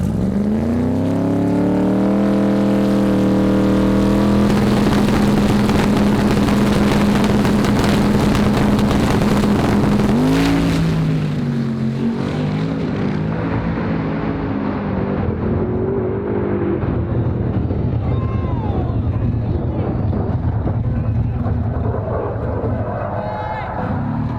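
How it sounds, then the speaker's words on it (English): A supercharged race car engine idles and surges with a loud, close blower whine, then the tone sweeps and fades into rougher rumbling as it settles, with no voices over it. "you can tune that blower surge out of there"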